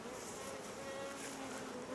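A honey bee crawling on a finger buzzes in a steady, close drone, alone and fairly faint.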